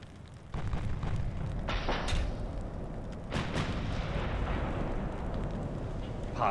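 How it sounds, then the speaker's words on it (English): Heavy naval guns boom from the USS Monitor in the Ultimate Admiral: Dreadnoughts video game, with several deep, loud blasts rolling out over a rumbling battle background. "It's getting awfully accurate with those guns now."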